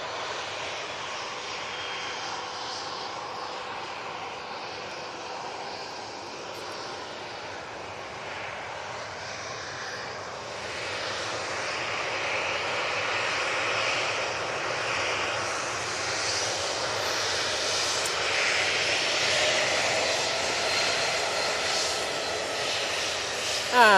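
A Jet2 airliner departing Manchester Airport, heard as a steady broad roar of jet engines at a distance that slowly grows louder over about twenty seconds, with no clear speech.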